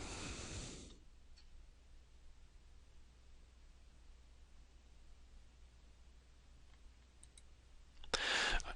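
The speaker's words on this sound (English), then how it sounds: "Now I'm clicking on the More button." A computer mouse clicks during an on-screen software walkthrough: a sharp click near the start, a few faint ticks in the middle, and a louder burst of clicking near the end over quiet room noise.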